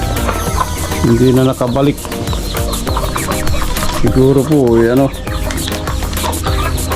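Backyard chickens cluck and call on and off in the background while a person talks over them nearby.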